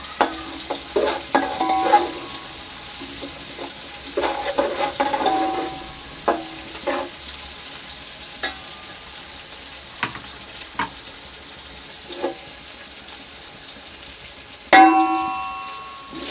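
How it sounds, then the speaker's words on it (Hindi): Sliced onions being lightly browned in a pan for a chicken and vegetable rice dish: a soft steady sizzle with repeated scraping and stirring clatters, and one sharper metallic clink near the end. "ये हल्की ब्राउन करेंगे प्याज को"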